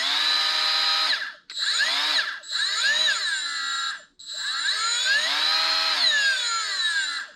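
Milwaukee M12 angle grinder spinning at speed setting 3, a loud high whine that rises and falls in pitch across several bursts, with brief drops between runs and no talking.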